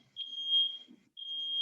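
A smoke alarm set off by cooking gives two long, piercing, steady beeps with a brief gap between them, heard close with faint background noise and no talk.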